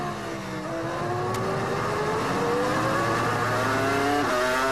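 Formula 1 car at the 2002 Malaysian Grand Prix practice accelerating out of turn 15, a loud, close engine whine climbing steadily in pitch through the gears, with a brief upshift dip near the end.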